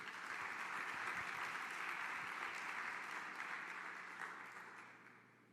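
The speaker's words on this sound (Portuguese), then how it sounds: "Dê um aplauso ao Senhor Jesus." A church congregation claps together during a service, a thick, continuous wash of applause that keeps going for several seconds before gradually fading out.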